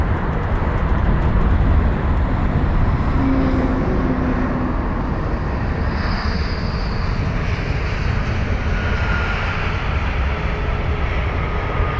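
An Airbus A320neo airliner arriving from Madrid at London Heathrow roars as a steady, broad engine rumble that stays loud and close for the whole stretch.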